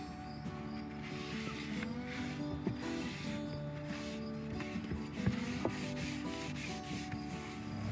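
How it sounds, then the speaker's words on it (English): A disinfecting wipe rubs steadily over an old thrift-store trunk, making a close, continuous scrubbing and rubbing texture with small knocks and creaks from the trunk. "I'm just going to take a Clorox wipe"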